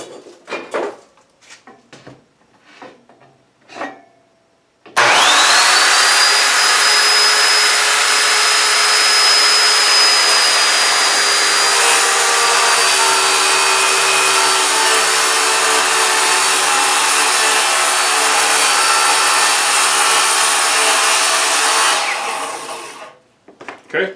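A power saw cuts wood for a French cleat workbench, first a few short knocks and handling sounds, then a loud, continuous whining cut lasting about eighteen seconds before stopping abruptly.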